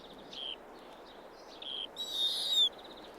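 A snowy owl calls in the Arctic, with several short, high cries and a brighter, louder call near the end over a faint, steady background.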